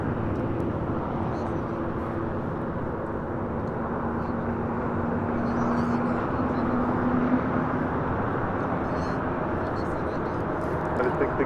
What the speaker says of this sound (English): This is United 667 coming in from Washington Dulles on a 777-200ER.